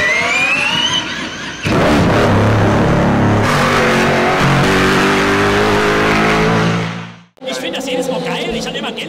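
A Le Mans race car's combustion engine revs loudly and close by, rising and falling in pitch before cutting off abruptly, then starts up again. Voices are heard around it.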